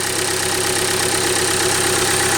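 A Renault Logan engine idles steadily at about 1000 rpm with a suspected faulty fuel temperature sensor, an even, continuous mechanical hum heard close up with no voices.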